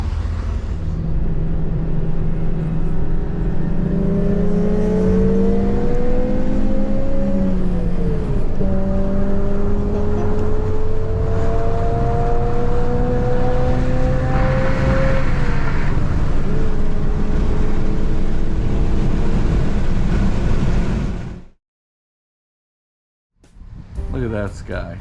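A 1989 Honda Civic Si hatchback with a B16A engine drives on the road, its close, loud engine note climbing and dropping repeatedly through gear changes for about twenty seconds before cutting out abruptly.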